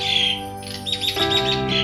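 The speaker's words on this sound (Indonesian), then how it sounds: "ini burung jalak uren, dia pintar nyanyi" An Asian pied starling sings a varied run of bright whistles and chirps, close and fairly loud, with no other sounds over it.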